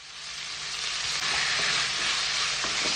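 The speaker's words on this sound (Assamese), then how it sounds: "নহ'লে পিঁয়াজ অকণমান ভাজি লওঁ" Onions fry in a pan alongside meat, producing a close, even hiss of sizzling oil with faint stirring scrapes, steady and unbroken for a few seconds.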